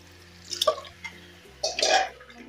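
Water being poured into a pressure cooker during the cooking of a black-eyed pea (lobia) curry with tomatoes, heard as two short splashing bursts with a metallic pot ring, the second longer and louder, close by.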